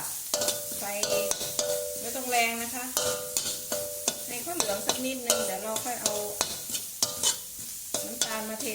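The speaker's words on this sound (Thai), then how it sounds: "หัวข่าหอมแดงตำผสมกันนะคะ แล้วก็เอาไปคั่ว นำไปคั่วนะคะ" Pounded galangal, shallot, lemongrass and ginger dry-roasting in a pan, with repeated rhythmic spatula scrapes and clanks over a soft sizzle, close and busy throughout, tonal metallic rings between strokes, no speech.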